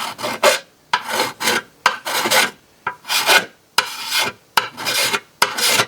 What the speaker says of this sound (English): So I'm just going to file that down.